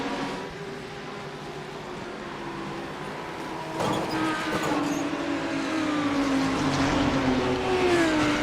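GT3 race cars circling a track in a racing video game, a steady engine drone with tonal whines that climb in pitch as another car closes in around the midpoint, growing slightly louder toward the end.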